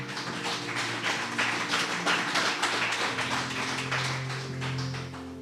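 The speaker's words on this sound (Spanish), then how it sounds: "Dale un aplauso al Señor." A congregation applauding during a church Bible study, a steady patter of many hands clapping close together over a low sustained hum.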